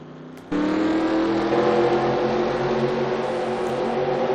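After a brief quiet moment, a loud, steady engine whine kicks in abruptly and holds, like a NASCAR race car idling and revving in a video game, before a race at Suzuka Circuit.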